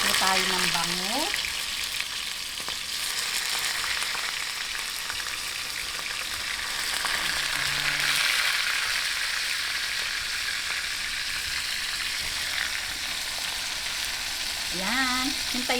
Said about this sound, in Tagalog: ngayon po, magprito na po tayo ng bangus